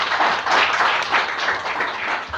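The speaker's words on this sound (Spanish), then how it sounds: "recibámoslo con un fuerte aplauso" An audience applauds at a church teaching session: dense, steady clapping from many hands fills the room at a fairly loud, even level, with no speech over it.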